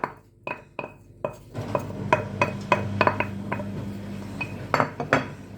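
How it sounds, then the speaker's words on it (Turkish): Metal clinks against a cooking pot, then a steady rattling pour of rice with scattered clinks, close and moderately loud. "Tencereme pirincimi ekleyeceğim."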